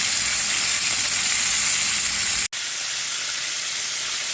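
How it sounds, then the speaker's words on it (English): Walleye fillets sizzle steadily in hot oil, a dense continuous hiss with one brief dropout partway through, close and loud with no voices. "while the fish is sizzling"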